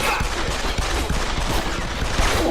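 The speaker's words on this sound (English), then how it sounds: "Stop shooting!" Gunfire in the video game Deus Ex: Human Revolution, a dense rapid burst of shots rattling almost continuously for a couple of seconds, loud and close.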